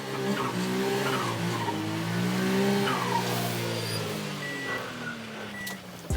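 A small Japanese mini truck's engine revs and whines as its tires squeal in long sliding screeches while drifting, fairly close, with no talking.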